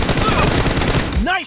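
Gunfire from a one-handed 1v1 shooter video game, loud, dense and continuous, overlapped by a voice.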